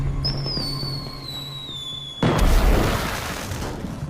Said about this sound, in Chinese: 少主买的烟花走火了